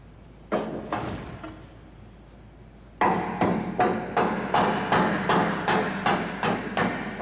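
Sharp hammer blows on steel sheeting, two strikes then a steady run of about nine evenly spaced, ringing impacts, close and loud with no talk.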